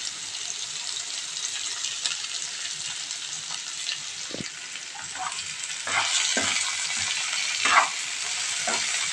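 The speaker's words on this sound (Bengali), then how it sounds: "আমটা দিয়ে একটুখানি ভাজা ভাজা করবো" Thinly sliced mango frying with five-spice in a pan for chutney, a steady close sizzle with occasional stirring scrapes and clinks, louder toward the end.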